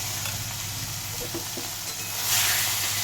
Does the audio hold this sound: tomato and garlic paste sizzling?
yes